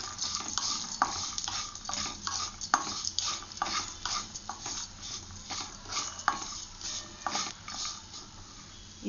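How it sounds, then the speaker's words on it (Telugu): Coriander seeds and dry coconut pieces dry-roasting in a pan, stirred with quick repeated scraping and rattling strokes in an uneven rhythm, fairly close and moderately quiet. "ఇవన్నీ వేసి కొంచెం దోరగా వేయించుకోవాలి."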